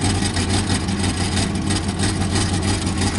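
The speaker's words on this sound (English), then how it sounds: "that donut ring just rattles around in there" Idling Pontiac Firebird with a loose exhaust pipe-to-manifold connection and a rattling donut ring, a steady low rough engine drone with a faint uneven metallic buzz, close and continuous, no talk.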